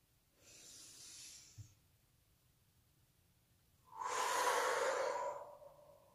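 Two slow, deep breaths during a guided relaxation and stretching exercise: a softer, airy inhale, a pause, then a louder, fuller breath of about a second and a half, close to the microphone with no talking.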